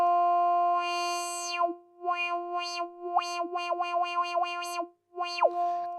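Synthesizer tone in the Mela 5 iOS app played through a filter, a bright harmonic tone with sweeping, chirping note changes and gliding pitch bends, clean and alone.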